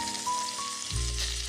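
Butter and flour roux sizzles softly in a pan over lowered heat as it is stirred, a quiet steady frying hiss with a faint low rumble rising near the end.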